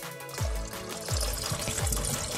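Coolant drains from the radiator of an NA Mazda Miata, a steady liquid gush and trickle punctuated by a few low glugging surges, close and fairly loud throughout.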